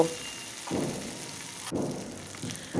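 Masala frying in oil in a pan hisses steadily while a spoon stirs it, with three scraping swells rising over the continuous sizzle.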